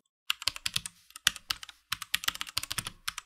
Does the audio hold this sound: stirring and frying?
no